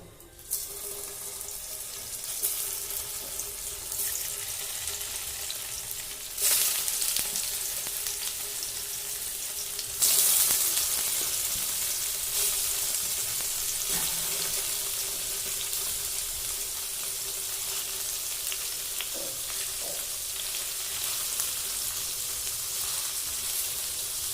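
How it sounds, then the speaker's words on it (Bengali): Paneer frying lightly in white oil in a kadai, giving a steady loud hiss of sizzling that runs unbroken throughout with a few brief surges and no speech. "এবার পনিরটা হালকা ভেজে নেব"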